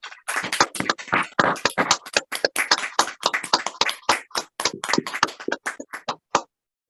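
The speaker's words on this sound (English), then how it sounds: "join me in giving our presenters, whose first language is not English, a hearty round of applause" Hand claps from attendees of an online diplomacy conference: a steady run of distinct, crisp, fairly close claps lasting several seconds with no talking, stopping abruptly at the end.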